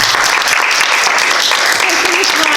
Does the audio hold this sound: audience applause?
yes